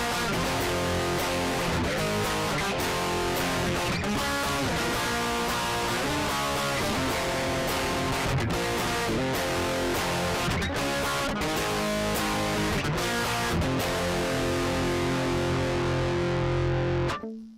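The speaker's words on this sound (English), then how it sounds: "That's a famous distortion pedal." An electric guitar runs through a Boss DS-1 distortion pedal, playing gritty, saturated chords and riffs continuously at a loud level until the sound stops near the end, with no speech.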